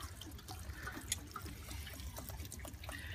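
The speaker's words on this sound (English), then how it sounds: "That's warm water coming out of there." Warm water drains from a winterized hot water tank, a quiet, steady trickle and splash with small irregular drips.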